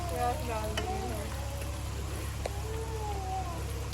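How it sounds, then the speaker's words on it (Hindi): Onions fry in hot ghee with a soft, steady sizzle in a village kitchen, quiet and constant throughout, with a few faint clinks. "घी गर्म हो चुका था तो फिर साथ ही मैंने इसमें प्याज डाल दिए हैं।"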